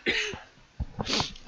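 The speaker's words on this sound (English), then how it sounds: "Pardon me if I cough." A person with a cold coughs several times in quick succession, close to the microphone, with short rough bursts and a brief pause between the first cough and the rest.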